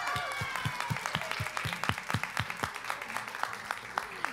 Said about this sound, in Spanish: Un aplauso para el esposo.